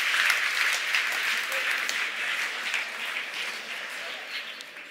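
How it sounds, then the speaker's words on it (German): Audience applause at a German talk: a steady, fairly faint wash of many hands clapping, continuous for several seconds and slowly tapering. "Einen großen Applaus für euch"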